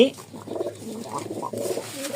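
A pigeon coos softly in a pigeon loft, with a few low, rolling calls repeating close by against quiet background noise.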